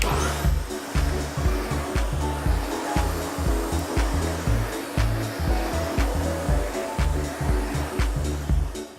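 A Cleanstar 3-in-1 Multivac vacuum polisher runs close by with a loud, pulsing motor drone, its rhythmic throbbing thumps repeating roughly twice a second throughout.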